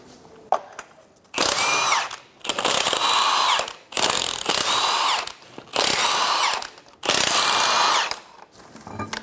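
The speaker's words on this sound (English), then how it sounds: "Remove your 5 21mm lug nuts." Loud bursts from a power impact tool removing the five 21mm lug nuts from a 2007-2012 Nissan Altima wheel, five whirring, buzzing runs of about a second each separated by short pauses, close up with no talk.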